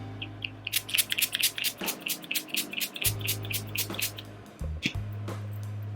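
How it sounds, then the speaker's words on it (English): Quick bursts of hissing spray from a facial mist bottle, repeated in a rapid rhythm, close by, over a low steady hum. "I'm gonna spray my face with my Rainforest of the Sea Marine Boosting Mist"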